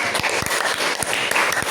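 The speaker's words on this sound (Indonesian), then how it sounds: "Tepuk tangan buat kalian" A sixth-grade class breaks into steady, dense applause, many hands clapping together close by for the whole moment.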